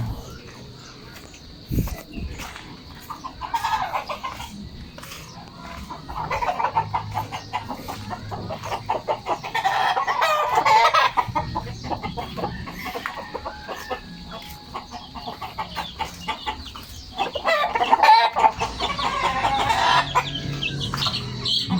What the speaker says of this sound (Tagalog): manukan